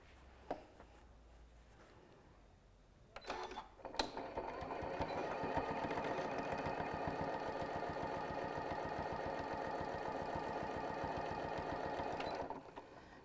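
A sewing machine stitches along a quilted fabric pouch, a steady fast rattling hum running close for about eight seconds after a few handling clicks, then stopping.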